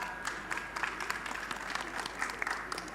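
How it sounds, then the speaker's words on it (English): Conference audience applauding at an annual general meeting, a dense, steady patter of many hands clapping at moderate volume for the full stretch, with faint voices mixed in. "A big round of applause to Stella."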